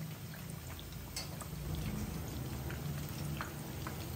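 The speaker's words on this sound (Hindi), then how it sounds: "फिश के जो पकौड़े हैं उनको मैंने बहुत ही अच्छे से फ्राई कर लिया है" Fish pakoras frying in oil over a medium-low flame give a steady, close sizzle with small pops and crackles throughout, and nobody speaks.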